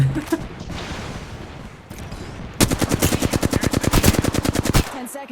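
Automatic weapon fire in the video game Apex Legends: after a stretch of low, muffled in-game ambience, a close, loud burst of rapid, evenly spaced shots rattles off for about two seconds, then stops abruptly.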